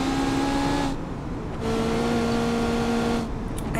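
A V8 car engine in BeamNG.drive hums with steady, tonal harmonics, drops briefly near the start, then returns at a shifted pitch and holds a constant drone to the end. No voices.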